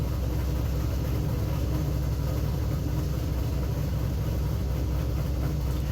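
A car engine idles with a steady low exhaust rumble, constant and close, with no voices present.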